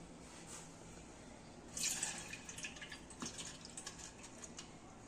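Water squeezed out by hand while making kheer splashes and trickles, then keeps dripping in quick, irregular drops, close by and fairly quiet.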